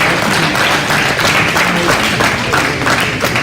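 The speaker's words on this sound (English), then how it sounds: "Let's give those two kids a real good round of applause." Audience at a cattle show applauding, a dense steady round of clapping from many hands in an indoor venue, loud and continuous with no talk over it.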